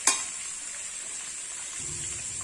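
Onion, carrot and drumstick pieces for South Indian sambar frying in a pan, a steady close hiss and sizzle opening with a brief clatter of stirring.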